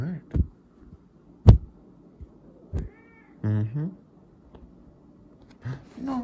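A loud male house cat meows several times at close range, the meows coming in scattered bursts between quieter pauses, with a few soft thumps and rustles around them.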